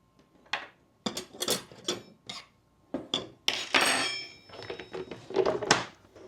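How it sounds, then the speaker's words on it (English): Metal clanks and clinks as a nut is worked off a Bosu ball, a series of sharp irregular knocks and rattles with quiet gaps between, close and fairly loud. "I'm going to take that nut all the way off."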